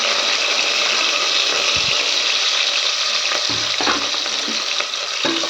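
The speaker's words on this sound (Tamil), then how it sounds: "வெங்காயம் நல்லா கொஞ்சம் ப்ரௌனாக கொஞ்சம் வதங்கட்டும்" Onions, tomatoes, green chillies and garlic fry in a pan with a loud, dense, continuous sizzle, close by, broken by a few brief stirring knocks.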